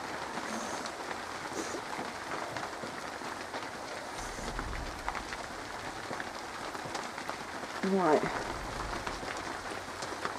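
Steady rain pours down outdoors over a garden allotment plot with a grapevine, a dense continuous hiss throughout, while someone speaks briefly near the end.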